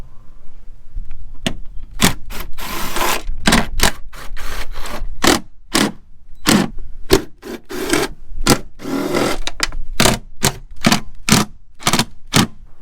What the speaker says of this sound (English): Let's start by taking off the compartment.